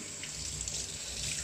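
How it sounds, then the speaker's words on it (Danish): Tap water runs steadily into a bowl to be mixed with shampoo for bathing a puppy, a soft continuous splashing stream heard up close with no talk. "Og så bliver det blandet med lidt vand."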